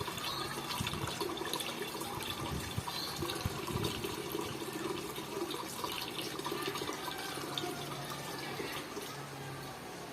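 KISS hydroponic nutrient solution poured through a funnel into a container, a steady continuous splashing and trickling flow lasting the whole stretch at moderate level, with no talk.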